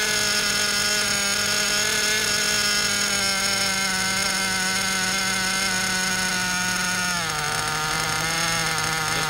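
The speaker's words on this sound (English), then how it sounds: "Lifting her up, that's gonna bring the RPMs down." A Werks B5 RC nitro engine runs steadily on break-in, a loud continuous buzzing drone whose pitch drops noticeably near the end as the mixture is richened, with no talk over it.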